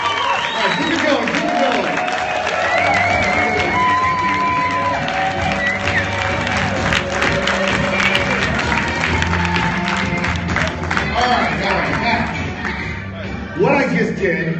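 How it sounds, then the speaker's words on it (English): A conference audience in Las Vegas applauds and cheers loudly and continuously, with whoops and shouts rising over the dense clapping while the noise fills the room. "Everybody just start applauding and going crazy right now."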